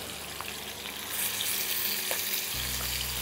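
Pieces of katla fish fry in hot oil in a home kitchen for a Bengali fish curry, giving a steady, dense sizzle. A low hum joins near the end, and no one speaks.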